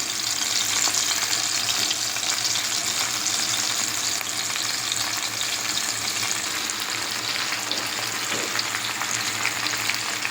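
Fish frying in mustard oil over a low flame, giving a dense, even sizzle and crackle that holds steady and close for the whole stretch with no talk.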